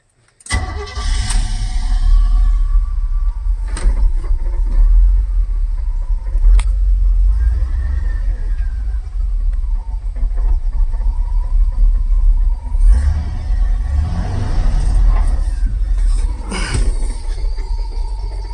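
A 1977 Chevrolet squarebody truck engine running with a loud, steady low rumble close by, its idle slightly uneven, with a few sharp clanks and knocks over it.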